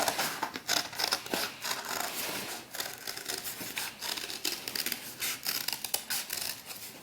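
Scissors cut fabric for a homemade doll mannequin in steady, close snips that run for several seconds, each crisp cut following right after the last.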